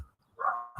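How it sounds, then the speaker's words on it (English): Dogs barking in the background of a home, a single faint muffled bark heard at a distance, alone with no talk. "You might hear my dogs in the background."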